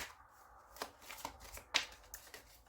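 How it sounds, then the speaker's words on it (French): A deck of tarot cards shuffled for a reading, with a few soft, close riffles and snaps at low volume in a quiet room. "Maintenant, nous allons faire votre tirage général."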